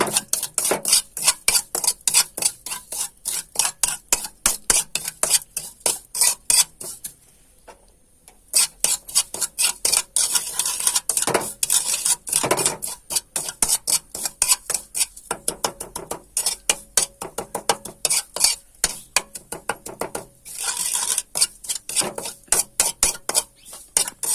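A spoon scrapes and clatters against a pan as Ayurvedic medicine ingredients roast in coconut oil, producing a loud, rapid, continuous metallic stirring rhythm up close that pauses briefly once and then resumes.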